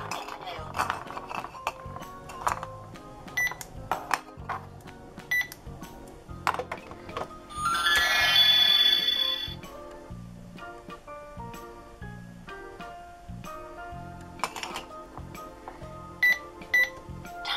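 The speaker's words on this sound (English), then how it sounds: "We've got a Disney Princess talking cash register." A Disney Princess talking toy cash register plays electronic jingles, chimes and beeping tones with a brief bright ringing burst midway, its recorded voice chattering between the sounds.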